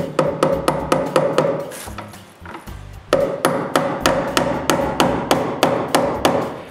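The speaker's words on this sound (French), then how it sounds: "Je commence par clouer tous les fils électriques sur la structure" Rapid hammer blows drive staples into a wood frame to fasten electrical wires in a workshop under construction, loud sharp strikes in quick regular bursts with a short pause between groups.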